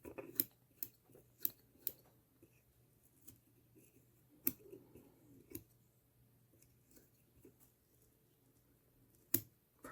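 Scissors snipping spun deer hair on a salmon fly during a rough trim, a series of sharp, close, quiet clicks spaced irregularly over a near-silent background.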